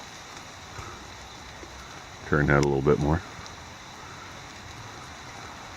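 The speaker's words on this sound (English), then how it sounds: "you can see the rain hitting the pond." Rain from Hurricane Matthew falls on a pond in a soft, continuous hiss, with a person speaking briefly over it midway.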